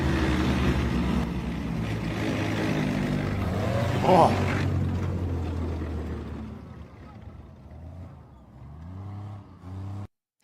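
An M113 armored personnel carrier's heavy tracked-vehicle engine roars and revs loudly and close, rising to a peak midway before easing off, with a couple of final revs; a man briefly exclaims.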